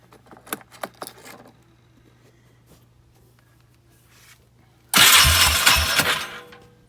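A 2004 Bombardier Outlander Max 400 ATV cranks and fires up after a few clicks and handling noises, its engine catching abruptly and running loud and close for the last seconds.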